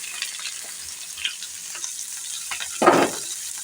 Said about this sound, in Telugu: ఇప్పుడు కట్ చేసి పెట్టుకున్న ఉల్లిపాయ ముక్కలు వేసేస్తున్నాను